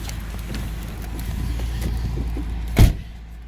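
A custom 2010 Honda Accord lowrider's air suspension lifts to ride height, a steady motor whir running for several seconds before a sharp clunk near the end.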